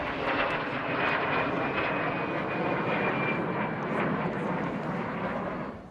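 A jet aircraft with a Klimov engine, a copy of the Rolls-Royce Nene, flies a display at an airshow, giving a steady, loud roar that holds unbroken and fades slightly at the end.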